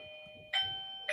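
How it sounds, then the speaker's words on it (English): A doorbell camera chime rings twice in quick succession, each time a clear electronic ding over a quiet room with no talking. "That's my doorbell camera ring, and I can't shut it off."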